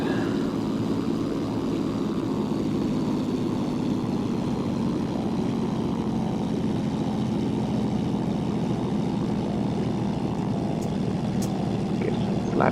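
Zlin 142 propeller plane in X-Plane 11 on final approach, a steady, loud engine and prop drone that holds evenly from start to end with no talk over it.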